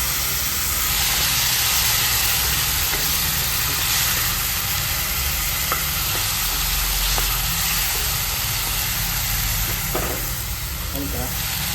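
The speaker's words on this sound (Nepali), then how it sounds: "अलिअलि भुट्ने हो कि" Spices fry in a pan with a steady, loud sizzle and hiss that runs the whole time, marked by occasional light taps and scrapes of stirring.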